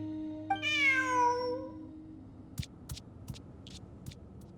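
A single drawn-out cat meow, close and clear, rising then falling over about a second, followed by several sharp clicking taps in a quiet room.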